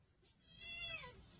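A cat gives a single drawn-out meow, rising and then falling in pitch. It is clear and fairly close against a low background rumble.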